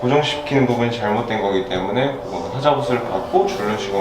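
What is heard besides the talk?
No everyday noises stand out.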